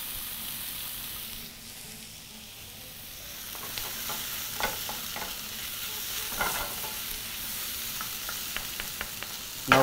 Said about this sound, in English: always constantly mixing to make sure for a more even consistency of color and as well of cooking temperature